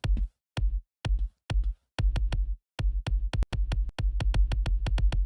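A fast, steady electronic kick-drum pattern programmed in FL Studio, thumping like a racing heartbeat: short, loud low-end pulses in groups, with brief gaps, then a denser run of evenly spaced beats alone.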